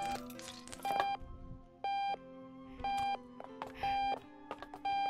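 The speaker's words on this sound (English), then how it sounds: "Be quiet, alarm clock." A bedside alarm clock beeps in the video game Octodad: Dadliest Catch, giving short repeated electronic tones at a steady pace over quiet game clatter and background music.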